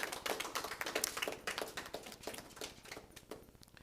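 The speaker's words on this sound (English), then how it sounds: "Let's give them a round of applause." Audience applause at a quarterly press conference, a burst of quick, crisp claps from a small crowd that is strongest at the start and thins out to scattered claps by the end.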